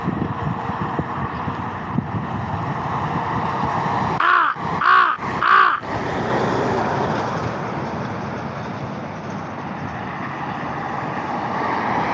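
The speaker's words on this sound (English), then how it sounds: "check out my crow buddies" Three loud, close caws from crows in quick succession, standing out over a steady hum of road traffic with trucks and cars passing.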